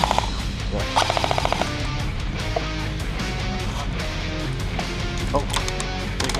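Airsoft guns fire in rapid bursts and scattered single shots during an outdoor skirmish, a dense, fairly loud crackle running throughout with a few distant shouts mixed in.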